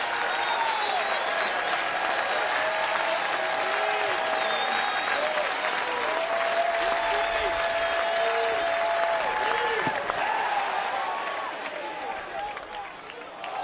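Home crowd at Goodwin Field applauding and cheering during a 2004 Cal State Fullerton versus Tulane college baseball game, sustained clapping with whistles and shouts, fading toward the end while an announcer talks over it.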